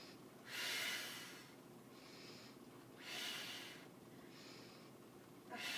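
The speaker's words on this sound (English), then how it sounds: "You exhale, on the up." During toe touch crunches on a floor mat, a person lets out three or four forceful, breathy exhales. Each lasts about half a second and they come at a regular, unhurried pace, close and fairly quiet, with no speech.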